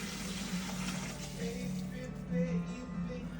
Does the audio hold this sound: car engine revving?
no